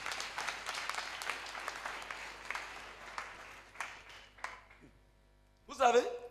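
An audience at a church teaching conference applauds in lively, sustained clapping that gradually thins and fades out, followed by a voice speaking.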